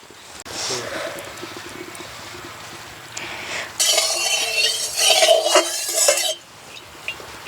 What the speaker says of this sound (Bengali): কড়াইতে দিয়ে দেবো সর্ষের তেল।